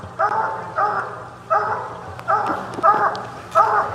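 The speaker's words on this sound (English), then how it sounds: "I don't know what dog that's barking right there by him." A coonhound barks during a competition hunt, sounding a steady run of about seven evenly spaced bawling barks from a moderate distance, with faint outdoor background.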